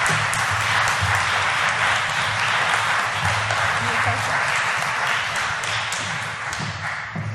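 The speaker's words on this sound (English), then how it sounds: "give a really big final round of applause to all our speakers" A conference audience gives a final round of applause for the speakers at a closing plenary, dense sustained clapping that stays steady for several seconds before starting to thin out near the end.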